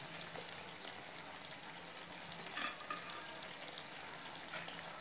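Green chillies and fresh coriander going into tender cooked chicken changezi sizzling in a pan, a quiet, steady sizzle with a short louder burst of stirring midway and no voice.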